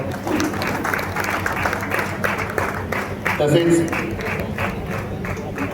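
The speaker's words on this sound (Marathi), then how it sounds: "अनंत शिंदे माऊलीसाठी आपण जोरदार टाळ्या वाजवा" An audience at a bhajan group's honour ceremony breaks into steady, moderately loud applause, with a voice talking briefly over the clapping.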